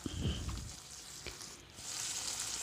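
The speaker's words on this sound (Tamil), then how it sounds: "இப்போ இது எல்லாத்தையும் எண்ணெயில் நல்லா வதக்கி விட்டுருங்க" Shallots, garlic, curry leaves and green chillies sautéing in hot oil for fish curry, a close sizzle with a couple of brief stirring clatters, steady and moderately loud with no speech.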